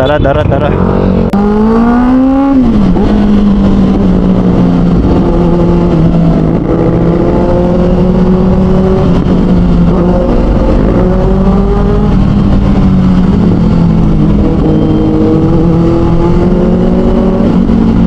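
Yamaha Aerox scooters rev at a roadside bike spot, engines loud and close, one rising sharply then settling into a sustained drone with further climbing and easing throttle swells.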